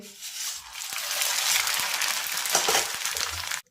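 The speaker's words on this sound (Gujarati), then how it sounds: "બાકી વધેલા પૌવાને પણ તળી લઈએ" Leftover corn poha fries in hot oil for a spiced puffed rice snack, producing a dense, crackling sizzle that swells after a quieter start, with a few sharp ticks, then cuts off abruptly.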